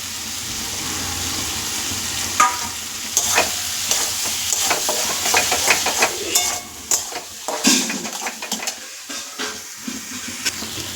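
Spices and fried katla fish oil sizzling together in a pan, with frequent scraping and clattering as a spoon stirs the mixture, busy and close throughout.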